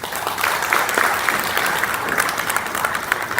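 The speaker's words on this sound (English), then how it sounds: "Please keep the applause coming" An audience at a panel event on blue-collar employee welfare applauds. The clapping is dense, loud and steady and runs without pause from start to finish.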